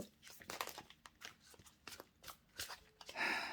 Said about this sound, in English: These cards do not want to shuffle.